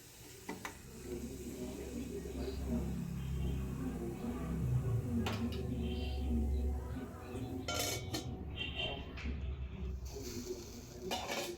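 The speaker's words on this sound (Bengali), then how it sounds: "ঢাকা দিয়ে আমি সবজিগুলো ভেজে নেব যতক্ষণ না সবজিগুলো সেদ্ধ হয়ে যায়।" Vegetables for suji upma fry under a lid in a pan, a soft low sizzle with clinks and clatters of a lid and utensils, fairly quiet throughout.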